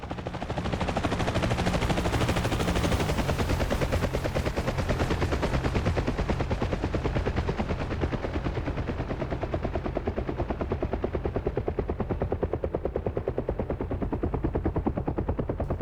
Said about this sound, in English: Very distinctive sound, the Huey helicopter.